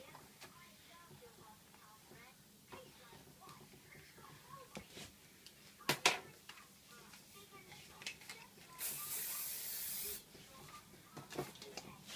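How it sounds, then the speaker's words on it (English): Hairspray from an aerosol can is misted onto hair styled into a vintage roll, one steady hiss lasting about a second, heard near and fairly loud over quiet handling sounds. "So plenty of hairspray just to get it nice and sleek."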